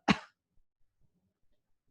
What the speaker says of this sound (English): put our hands on our belly and cough